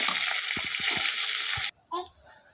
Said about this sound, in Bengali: আমি এই তেলে মরিচগুলো ভেজে নিচ্ছি